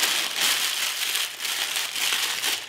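Baking paper is crumpled by hand close up, a continuous crackling, crinkling rustle with slight swells in intensity throughout, no talk.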